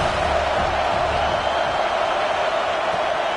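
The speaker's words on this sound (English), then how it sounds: "This crowd bringing the energy and noise early." A college football stadium crowd roars in a steady, dense wall of cheering noise, loud and continuous without distinct breaks.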